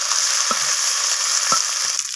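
Neem leaves sizzle steadily in hot oil, with a couple of soft stirring knocks against the pan.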